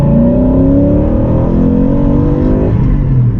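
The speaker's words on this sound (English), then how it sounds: "get your intake sound to come out of your car stereo" A loud, close car engine drones steadily and then revs, a deep, throaty intake roar played through an intake amplifier and the car stereo filling the whole stretch.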